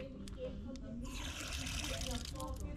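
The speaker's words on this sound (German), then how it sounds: "Mitten in der Stadt ist da ein Wasserhahn." Water running from a tap set into a barrel in a city street, a steady splashing trickle heard faintly, with voices talking around it.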